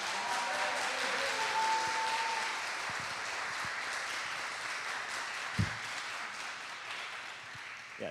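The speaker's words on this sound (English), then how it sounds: "So please give them a round of applause." Congregation applauding during a Sunday church service, a steady wash of clapping that stays fairly even for several seconds and eases slightly toward the end, with a few faint knocks and a brief tonal sound early on.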